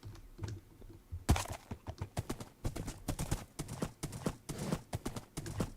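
Horse hooves from the video game Minecraft clip-clop at a quick trotting pace, steady rhythmic hits, fairly faint, after a quiet start.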